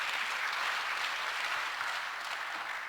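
Steady applause from a church congregation, continuous clapping filling the whole stretch at a fairly even level with no voices breaking through.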